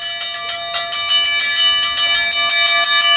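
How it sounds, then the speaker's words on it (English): Bell strikes ring out rapidly and repeatedly in a wrestling video game match, their bright metallic tone sustaining and overlapping throughout. "Ring the bell."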